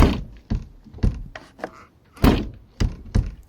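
Heavy car door thunks shut several times in a row, loud and close, on an old car back on the road after eight years, its stiff door seals making the doors hard to adjust.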